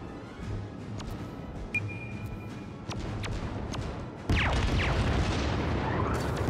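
Warship guns fire in World of Warships from a Tier X cruiser Zaya, heavy booming salvos repeating through the stretch, with a big loud blast near the end over constant engine and sea rumble, no talk.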